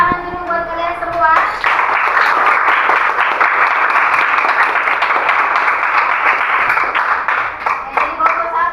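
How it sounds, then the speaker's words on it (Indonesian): A classroom of students breaks into loud, close applause for the groups that answered correctly, a burst of energetic clapping that starts after a short spoken line and continues, with children's voices calling out over it. "Tepuk tangan dulu buat kalian semua."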